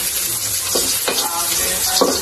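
Garlic sautés in a pan with a close, steady sizzle and a few scraping stirs over about two seconds, with no talking.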